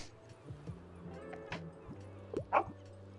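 A hungry stray dog in the Tiny Bookshop video game gives faint yips and a brief whimpering bark over soft background game sounds.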